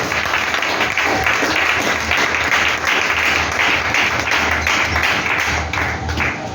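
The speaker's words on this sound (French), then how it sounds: "Acclame ta vie éternelle" Loud, sustained clapping from a church congregation, a thick wash of many hands beating together without pause, close and energetic from start to finish.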